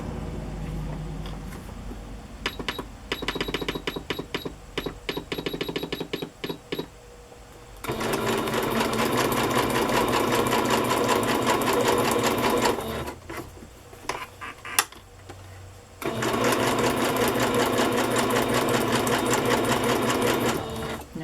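A sewing machine runs a zigzag stitch on a boho cover craft project in close, rapid bursts: short stop-start runs at first, then two long, steady stretches of stitching broken by a brief pause.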